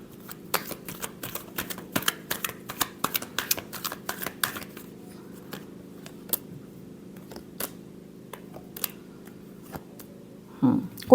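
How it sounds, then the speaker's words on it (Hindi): Tarot cards being shuffled in a series of quick, crisp riffling flicks and taps at close range, irregular bursts over a steady low hum, ending with a brief louder rustle. "Last shuffle."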